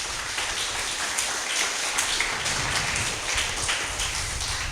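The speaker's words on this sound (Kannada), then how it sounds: "ಚಪ್ಪಾಳೆ ತಟ್ಟಿ ದೇವರಿಗೆ ಸ್ತೋತ್ರ ಮಾಡಿ." A church congregation claps hands in praise during a prayer meeting at Divine Call Centre in Mulki, with dense, steady applause filling the room throughout.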